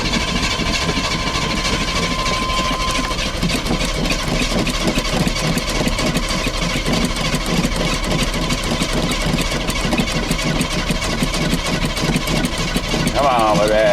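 A 1985 Chevy C30 truck engine runs after a cold start, holding a loud, steady, rough mid-pitched idle close by with a constant rhythmic rumble.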